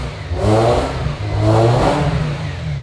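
Ferrari 348 engine at its first startup after repair, revving loudly and up close in two swelling blips, then holding a rough, throaty drone with no talk.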